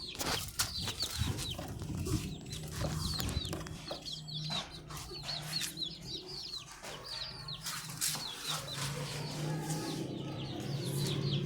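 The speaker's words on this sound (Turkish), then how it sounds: "Bir civcivlerimizi gösterelim." A crowd of chicks peeping in rapid, high-pitched chirps throughout, with soft clucking and a low background hum.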